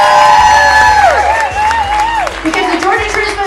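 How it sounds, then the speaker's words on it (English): A crowd at a charity transplant fundraiser breaks into loud applause and cheering, with clapping filling the room while a singer's long, falling voice and other voices carry over it. "a huge round of applause for the Georgia Transplant Foundation"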